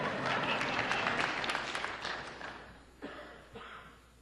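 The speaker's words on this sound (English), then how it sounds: "You can applaud Wally." An audience at a church Christmas sermon claps for a short stretch, with dense applause that thins out into a few scattered claps and fades by the end.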